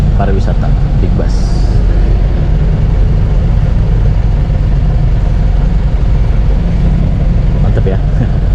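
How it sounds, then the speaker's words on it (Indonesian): A big tourist bus idles at a Medal Jaya depot, a loud, steady low engine rumble that runs without pause, with faint voices in the background. "Ini yang big bus, yang pariwisata, teman-teman."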